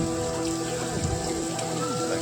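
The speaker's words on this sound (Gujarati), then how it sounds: "ત્યાં તો વરસાદ આવી ગયો ફૂલમ ફૂલ" Heavy rain with wind pours down in a steady, dense hiss that holds evenly without a break, close and loud, with a faint tonal hum beneath.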